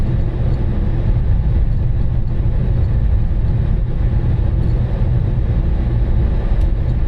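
A loud, heavy rumble of a train rolling past nearby, steady and continuous throughout with deep low-end roar.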